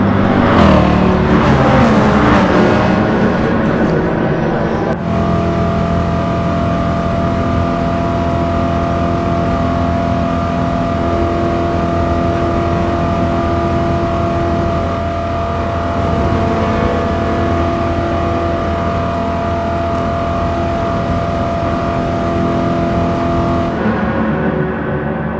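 Race car engines from the Nürburgring Nordschleife in a WTCC video game, including a Volvo C30 saloon, drone loudly and steadily, holding a sustained tonal roar from start to finish.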